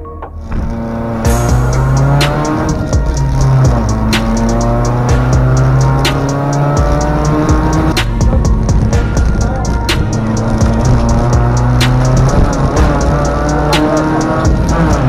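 A 1600 race car driven hard on a track, its engine loud and close with a rising, falling pitch through gear changes, droning continuously with sharp ticks over the top and no talking.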